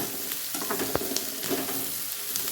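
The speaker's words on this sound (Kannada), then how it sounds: "ಬಟ್ ನಾವು ಇದರಲ್ಲೇ ಹಾಕಿ ಫ್ರೈ ಮಾಡ್ತೀವಿ ಚೆನ್ನಾಗಿ ಫ್ರೈ ಮಾಡ್ಕೊಳ್ಳಿ" Peanuts fry in a pan for a North Karnataka churmuri girmit snack, giving a close, steady sizzle broken by scraping stirs and one sharp clack of a spoon against the metal.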